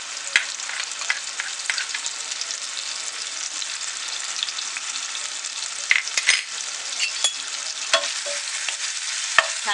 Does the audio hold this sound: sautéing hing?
yes